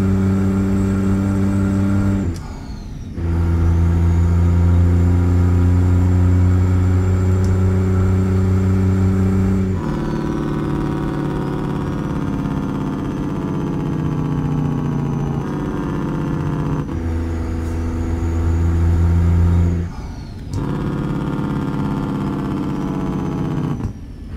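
A truck engine in American Truck Simulator revs hard through its gears: a loud, close, droning roar that climbs in pitch, drops sharply at each of several shifts, then builds again. No one speaks over it.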